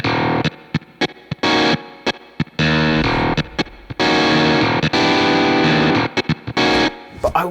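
A Nord Electro 7 stage keyboard plays chords and stabs through a Marshall amp simulation with the gain cranked up, loud and gritty, with choppy starts and stops and a sustained run in the middle.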